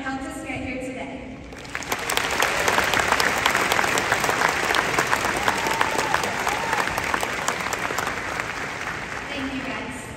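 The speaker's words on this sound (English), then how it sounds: "If I could please get a quick round of applause for all the people in our lives" A large audience at a high school graduation ceremony breaks into loud, sustained applause that swells and holds steady for several seconds before easing off.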